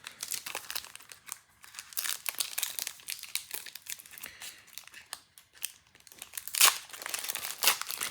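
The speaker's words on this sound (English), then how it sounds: "I've seen other people comment at how hard these packs are hard to open" A crinkly plastic wrapper on a 2023 Panini Prizm NASCAR card pack is tugged and torn open, making close, irregular bursts of crackling and crumpling with a couple of sharper rips.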